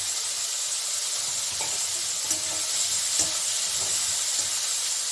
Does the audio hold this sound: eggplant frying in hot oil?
yes